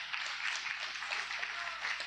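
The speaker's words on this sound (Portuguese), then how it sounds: "Aplauda bem forte ao Senhor" A church congregation clapping loudly for the Lord after a sermon: dense, continuous rapid applause from many hands, heard at a moderate distance with no voices standing out.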